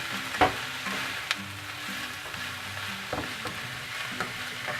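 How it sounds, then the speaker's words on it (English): Peppers fry in a pan and are stirred with a spatula. A steady, gentle sizzle runs throughout, broken by a few faint scraping taps of the spatula against the pan, close and alone. "I'm going to just grab my spatula and give it a stir"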